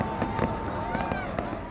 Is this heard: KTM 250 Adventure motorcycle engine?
no